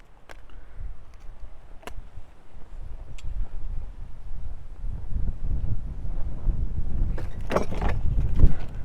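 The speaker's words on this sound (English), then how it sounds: "Like I said, it's hella windy." Strong wind while hiking buffets the microphone with a low, rumbling roar that grows louder, with a few scattered clicks and knocks nearby.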